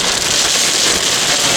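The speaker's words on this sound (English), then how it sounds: "That's a lot of hail." Heavy hail falls during a tornado near Locust Grove, Virginia, a loud dense continuous clatter of stones striking a vehicle and the ground, filling the whole short stretch without a break.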